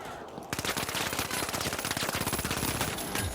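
Rapid automatic gunfire from a turret in the video game The Finals, a loud, dense burst of rattling shots running continuously after a brief quiet opening.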